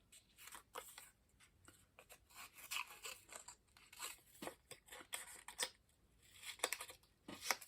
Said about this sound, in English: I'm going to cut a piece to fit over that.